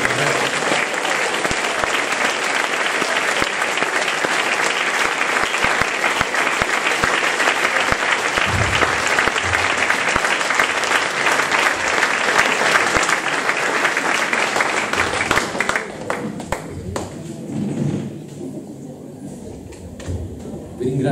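A church congregation applauds at an evangelical gathering, producing loud, sustained clapping that lasts most of the time before thinning out, with voices underneath.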